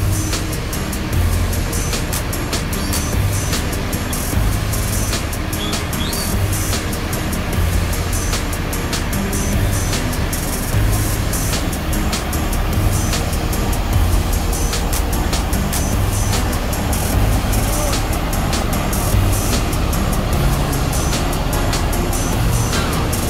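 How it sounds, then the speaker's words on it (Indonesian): A Harapan Jaya H543 Jakarta–Madiun coach with a Laksana SR2 body and Hino RN285 engine pulls away from a terminal, its steady low engine rumble filling the scene alongside dense background traffic noise and clatter throughout. "Diberangkatkan Harapan Jaya H543, jurusan Jakarta Madiun, menggunakan bodi SR2 dari Karoseri Laksana, dan mesinnya menggunakan Hino RN285."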